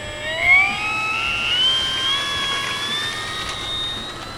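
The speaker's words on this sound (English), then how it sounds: "That's a nice scale takeoff there, Tom." An Avios Hawker Sea Fury RC model plane takes off with a steady, high-pitched engine whine that climbs slowly in pitch as it gains speed. The sound is loud and continuous, with no talk over it.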